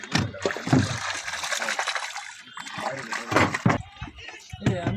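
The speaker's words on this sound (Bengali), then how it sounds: "এখন মাছগুলো আমরা ধুবো" Freshly cut river fish, pabda among them, washed by hand in a Jatrapur village: close, irregular splashes and trickles of water in uneven bursts with short pauses.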